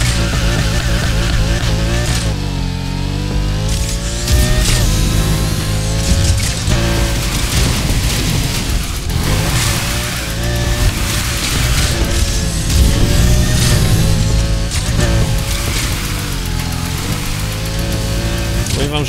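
A Lamborghini drifts in the Need for Speed Heat video game, its engine revving loudly and tires squealing in long continuous stretches, with occasional speech underneath.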